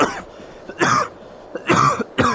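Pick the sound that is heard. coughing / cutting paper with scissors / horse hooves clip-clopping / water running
coughing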